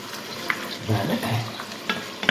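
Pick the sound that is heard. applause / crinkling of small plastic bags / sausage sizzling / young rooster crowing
sausage sizzling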